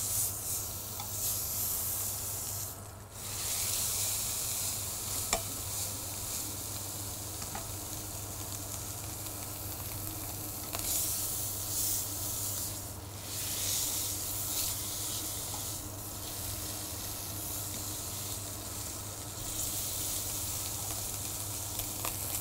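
Meat sears in oil in a frying pan, giving a loud, steady sizzle that continues without a break over a low electrical hum, with no voices.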